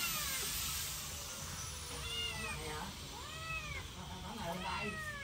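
Several cats meow in quick, rising-and-falling cries while being fed torn meat, the calls overlapping in bursts over a constant hissing background of workshop noise.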